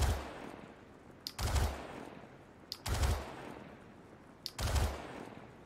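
Kastak Arms Karna assault rifle in Star Citizen firing three-round bursts, three loud bursts spaced roughly every one and a half seconds, each a quick cluster of shots with a heavy low thump, alone with no talk.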